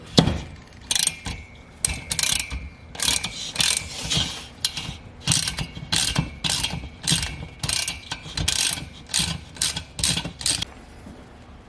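Thread tap being cut into the 14mm spark plug hole of a VW Thing cylinder head, giving repeated ratcheting, grinding clicks in uneven bursts that go on throughout, close up, with no talking.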